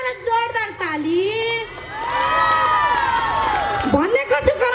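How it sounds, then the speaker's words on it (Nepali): An audience at a stage show during the Sindhuli Mahotsav festival cheers and shouts in a loud, sustained swell in the middle, with a voice calling out before and after. "एकचोटि सबैजनालाई जोरदार ताली"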